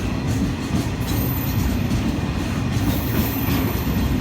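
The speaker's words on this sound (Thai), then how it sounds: "ขบวน722ผ่านสารยาไปแล้วนะครับ เป็นรถสินค้านะครับจาก" A GE diesel locomotive hauls freight train 722 through Salaya station in Nakhon Pathom, Thailand, a steady loud rumble of engine and rolling wagons filling the whole stretch with no talk.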